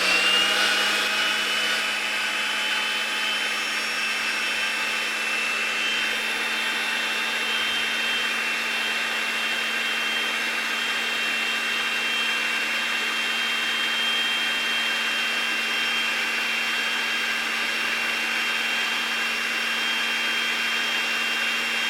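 A pipe threading machine runs in reverse to back the die off a threaded gas line pipe, with a steady, loud motor whine and hum that holds unchanged throughout and no voices.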